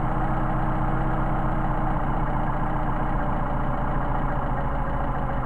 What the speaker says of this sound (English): we're going to screw this in until the idle degrades, and then back it out until the idle degrades